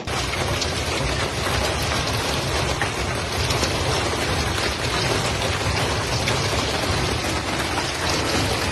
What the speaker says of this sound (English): thunderstorms with heavy rain and hail swept across the affected regions of Austria